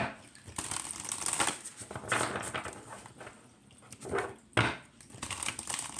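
Papery riffling and crinkling bursts from shuffling a full-size Rumi Oracle card deck recur in short runs, with soft slaps between them, close and fairly quiet.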